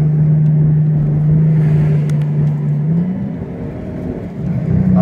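AMG car driving on the road, a steady close engine drone with a smooth hum that holds pitch, then rises briefly as the transmission shifts, with road noise underneath and no talking.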